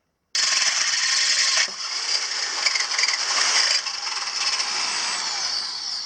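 A power drill bores a half-inch hole through steel while a vertical log stop is fitted to a Timberking 1400 sawmill. It starts suddenly as a loud, close, continuous grinding whine whose pitch shifts as the bit cuts.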